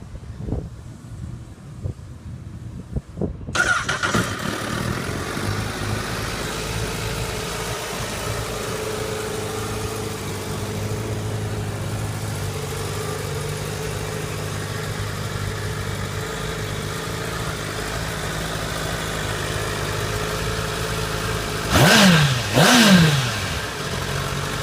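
A Honda CBR1000RR Fireblade motorcycle engine catches after a brief crank and settles into a steady, even idle, with a couple of short throttle blips near the end.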